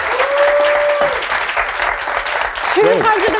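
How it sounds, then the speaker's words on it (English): Sustained audience applause at a career retrospective event, dense and steady clapping filling the room, with brief voices rising over it at the start and end. "everybody please give him a massive round of applause"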